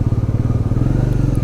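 A motorcycle idles at a bike service centre, its engine thumping in a loud, even, rapid pulse close to the microphone with no voices over it.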